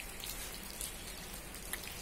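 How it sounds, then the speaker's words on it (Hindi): Heavy rain pours down steadily, with water rushing from a roof drain spout, a dense continuous hiss of drops spattering on surfaces, close and unbroken. "बढ़िया वाली बारिश हो रही है"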